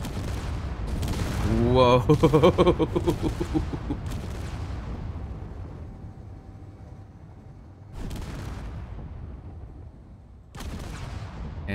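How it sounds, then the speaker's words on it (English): A ship rams small blocks and explodes in the Space Engineers game, with a loud rumbling crash and boom followed by further bursts of impact noise, while someone talks and exclaims over it. "we should hit it in 3, 2, 1 and an impact. It's gonna go boom."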